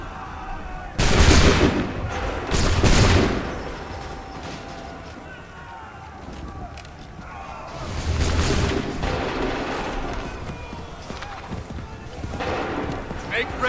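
Musket volleys crack out in Assassin's Creed III, two loud bursts of massed gunfire with booming echoes, separated by quieter battlefield ambience and shouting soldiers.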